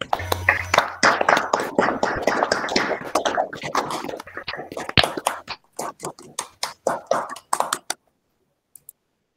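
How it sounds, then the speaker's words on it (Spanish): An audience claps at a university faculty anniversary ceremony for the Facultad de Ciencias Biológicas, UNA Puno. Scattered claps build into a patter, then thin out to a few isolated claps before silence. "Lo recibimos con un fuerte voto de aplausos."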